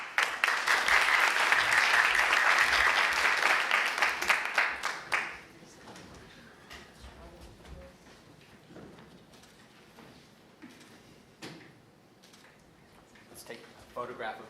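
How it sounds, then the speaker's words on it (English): An audience at San Jose State University's Grad Slam 2022 claps loudly for about five seconds, then the applause dies away into quiet room noise with a few scattered claps and faint voices. "And a round of applause, please"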